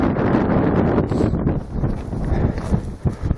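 Gusty wind at an outdoor rifle range, buffeting the microphone with a steady low roar that swells and eases, with a few soft thuds near the end.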